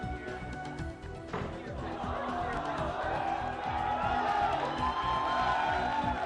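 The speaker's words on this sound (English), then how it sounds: "For about 1 hour, cheers from the crowd were heard as hundreds of prizes were given away." A large crowd at a gaming event prize raffle cheers and whoops in a loud, steady roar of voices with scattered shouts, sustained throughout.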